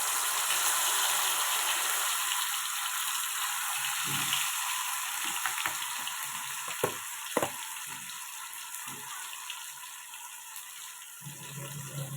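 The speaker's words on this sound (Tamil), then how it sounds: "இப்போ பக்கத்தில் வந்து ஃபிஷ் ஃப்ரை பண்ணி எடுத்துக்கிறேன்" Fish frying in oil in an iron kadai for a home-style fish curry gives a steady broadband sizzle throughout, broken by a few sharp clicks and utensil knocks midway, with no talking.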